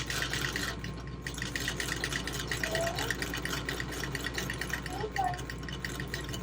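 A 1341 sewing machine stitches a bag, its fast rhythmic mechanical whirring steady and fairly quiet, with faint background noise and no talk.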